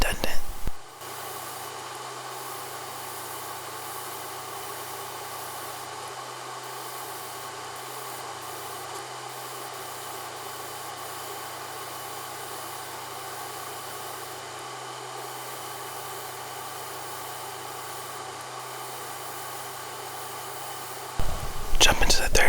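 An airbrush sprays gold paint onto a Tamiya Toyota Mk V Supra model body, giving a long, even hiss that runs nearly unbroken for about twenty seconds, close and steady, with no talking.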